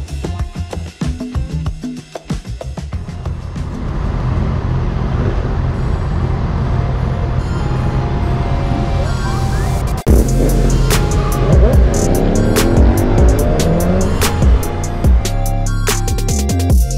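A Honda CB650R motorcycle exhaust burbles and revs during a group ride, loud and near, with a steady engine drone that swells into sharper revving and throttle blips partway through.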